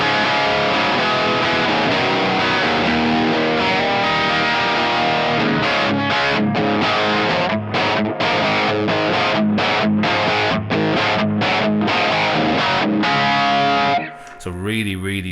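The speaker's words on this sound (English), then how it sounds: "like on the dirty channel, the amp and add a tube screamer," Hollow-body electric guitar runs through the dirty channel of an amp with a Tube Screamer pedal, giving loud, sustained overdriven rock chords, then a run of choppy staccato stabs before a short pause near the end.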